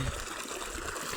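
Water running from an irrigation pump machine by a canal makes a steady, faint rushing trickle with no pauses over a short stretch.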